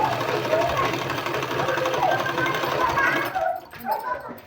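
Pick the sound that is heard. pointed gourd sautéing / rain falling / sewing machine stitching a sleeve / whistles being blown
sewing machine stitching a sleeve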